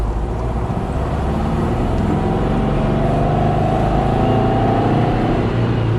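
A Porsche 356 engine revs and pulls hard under acceleration, loud and close throughout, with a dense, continuous drone that rises gradually in pitch as the car gathers speed.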